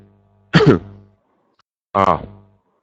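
Two separate harsh coughs, close and fairly loud, about a second and a half apart with quiet in between.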